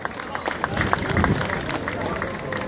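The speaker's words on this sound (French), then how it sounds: "Merci d'applaudir donc l'équipe Cara Rural" An outdoor crowd applauds the Caja Rural Seguros cycling team at the start of the Four Days of Dunkirk race, a dense, steady wash of clapping mixed with crowd noise and voices.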